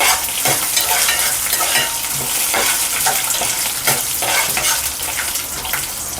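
Peanuts are stirred and roasted in a pan, giving a steady close scraping and rustling with faint sizzling and regular stirring strokes throughout, with no talking.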